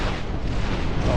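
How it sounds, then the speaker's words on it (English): Artillery fire in the real-time strategy game Dust Front RTS, shelling bugs from beyond their range: a brief, dense rumbling blast of booming impacts that fills the whole moment at steady loudness. "this might be a hard counter to the bugs, just hitting them out when outside of range with artillery"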